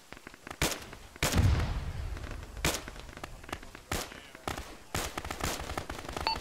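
Gunfire from an SPG in the Arma military video game, a series of sharp irregular reports at varied distances, some close and loud, others fainter, punctuating a low battlefield rumble.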